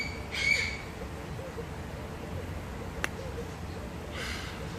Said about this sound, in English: This bird has been screeching for no reason